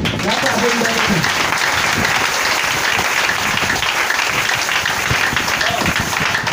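Congregation applauding and cheering during a church worship service: dense, steady applause fills the whole stretch at close range, with voices mixed into the crowd noise.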